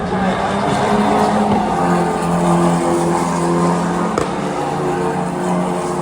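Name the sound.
F1 Academy race cars on the Miami racetrack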